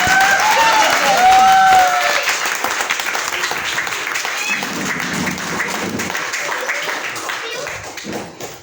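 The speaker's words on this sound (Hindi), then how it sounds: "जबरदस्त ताली बजाइए ताली सर" Audience applause at a business meeting greets guests on stage, a dense, steady clapping that fades slightly toward the end, with some voices heard over it.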